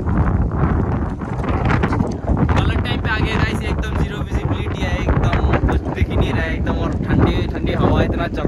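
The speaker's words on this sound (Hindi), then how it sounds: "एक तेज हवा चल रहा है।" Strong wind on Parasnath Hill buffets the microphone in a loud, continuous roar with gusty rumbling throughout, and no voices.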